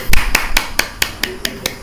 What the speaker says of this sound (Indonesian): silakan tepuk tangan semua